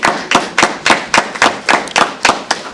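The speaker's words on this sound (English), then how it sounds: "That doesn't deserve applause" Steady, evenly spaced claps at a board meeting, about four per second, sounding like a single person or a small group clapping rather than full applause, with no talk over them.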